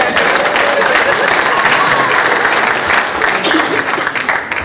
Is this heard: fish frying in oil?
no